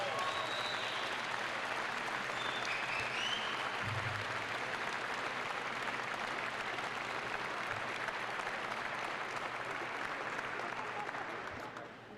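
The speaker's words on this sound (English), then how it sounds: "Let's give them a big round of applause." Steady applause from an assembled crowd at a C-130J aircraft arrival ceremony at Yokota Air Base, Japan, sustained and even for about eleven seconds before tapering off at the end.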